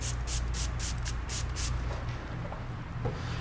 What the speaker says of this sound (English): we have the XMT pad conditioner. And all you really need to do is just take, mist on a few little sprays